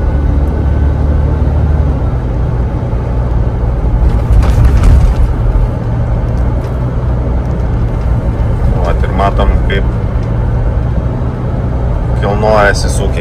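A Mercedes convertible with a suspected gearbox fault pulling away after a gear is engaged, a steady low engine rumble throughout with a brief rise midway, and someone speaking briefly near the end.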